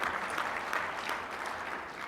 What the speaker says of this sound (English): certainly a round of applause